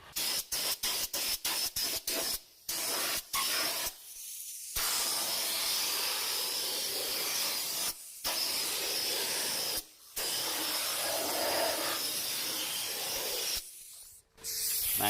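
Fluid Film undercoating sprays onto a car underbody in a rapid string of short hissing bursts, then long, loud, steady sprays broken by brief pauses.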